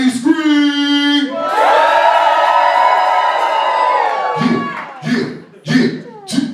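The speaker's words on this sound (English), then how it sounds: "Everybody scream!" An audience at a live variety show screams and cheers loudly in a sustained roar of many voices, then breaks into scattered whoops and shouts.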